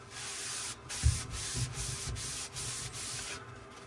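Repeated wiping of a cloth over a greasy 3D printer rail on a Peopoly Magneto X, a close, steady broadband rubbing with brief gaps between strokes, with no talk.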